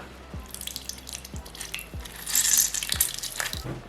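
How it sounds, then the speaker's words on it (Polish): Orange juice squeezed by hand from a halved orange into a pot of pumpkin soup, with a few soft, close drips and low thuds spaced about half a second apart over a light wet squelch, no talking. "Przekrawam ją sobie i wyciskam do środka."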